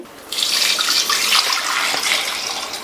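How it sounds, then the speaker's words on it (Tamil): Water gushes steadily into a metal pressure cooker holding potatoes, a continuous bright splashing stream that starts abruptly and runs without pause. "கிழங்கு முங்குற அளவுக்கு தண்ணி சேர்த்தாச்சு"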